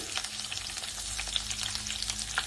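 Chopped garlic and chana dal fry in hot oil for tomato gojju, giving a dense, continuous crackling sizzle close by with no voices.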